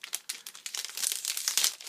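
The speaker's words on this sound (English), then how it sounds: "Let's hope we can open the pack without ripping it too much." A Panini Adrenalyn XL Premier League premium gold card pack wrapper crinkles and tears open close to the mic, with quick bursts of sharp, papery foil rustling and no voices.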